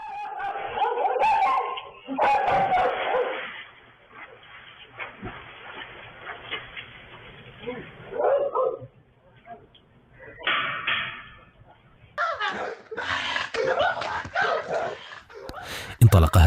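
Guard dogs inside a house bark, yip and whimper at burglars breaking in, in irregular bursts near and far with a door sound, while a narrating voice talks over them.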